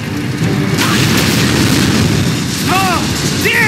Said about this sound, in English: Those tanks are gonna blow!